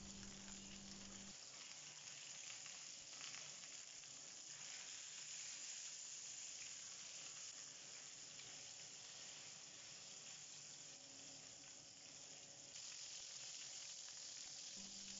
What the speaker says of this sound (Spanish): En una sartén caliente ponemos un poco de aceite de oliva y vamos a freír únicamente para sellar